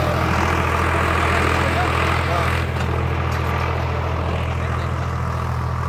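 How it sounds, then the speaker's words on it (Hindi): A Swaraj 735 FE tractor pulling a fully opened 14-disc harrow in a field drones steadily and loudly with a deep engine rumble throughout, while someone talks over it. "ट्रैक्टर बिल्कुल लोड फ्री चल रहा ट्रैक्टर"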